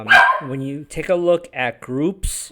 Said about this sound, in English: you'll have to excuse my dog here